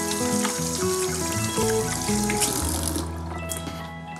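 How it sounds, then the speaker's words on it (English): Hands being washed under a running kitchen tap while baking cookies: a loud, close, steady stream of water splashing into a sink, with shifting tones as the hands move through the flow. "So I'm gonna wash my hands and get started with these two."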